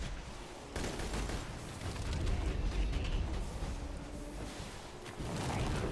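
Dense, continuous gunfire and explosions from the video game Borderlands 2, a loud sustained barrage of rapid shots and booming blasts with no pause, and no voices over the clatter.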